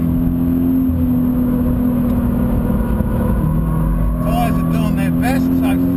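A Subaru BRZ on a race track at full throttle, steady loud in-car engine drone with rising whine near the end, heard from inside the cabin with someone talking over it.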